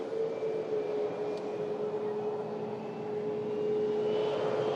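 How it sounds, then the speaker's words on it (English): A Ryanair Boeing 737 Max 8200, three years old, comes in to land on runway 23 left, its engines a steady, fairly loud drone with a sustained tone holding throughout, no voices over it. "Another aircraft landing in from France."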